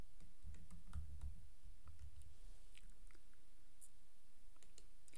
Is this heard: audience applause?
no